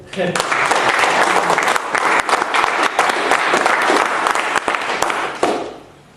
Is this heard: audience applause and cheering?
yes